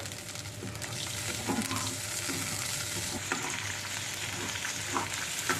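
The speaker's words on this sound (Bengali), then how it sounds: "এই জলটা আমি এর মধ্যে দিয়ে দিলাম। একটু ফুটবে," Spicy oil sauce with added water bubbles and sizzles in a pan for a punti fish curry, a faint steady boil with soft crackles and light stirring scrapes close by.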